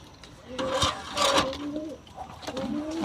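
Pigeons of Pakistani breeds coo in a breeding loft: a few soft, low, rolling coos rise and fade over a few seconds. Faint background noise sits underneath, with no clear talk.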